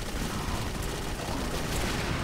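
Dense, continuous bursts of rapid gunfire fill the whole stretch, loud and unbroken, a heavy firefight in the video game Clive Barker's Jericho.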